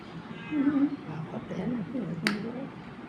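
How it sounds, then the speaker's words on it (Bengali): A few soft, high meows from young kittens, nearby and intermittent, mixed in with a person talking. "বিড়াল বাচ্চা দুটোকে নিয়ে এসে কী করছে ঘুরে বেড়াচ্ছে বিড়ালের বাচ্চাগুলো"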